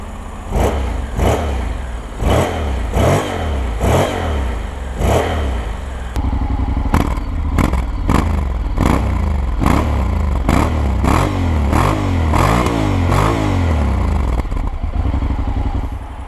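A motorcycle engine starts and idles with a steady, throbbing putter, then revs and pulls away with rising and falling throttle sweeps, close and loud throughout with no talking.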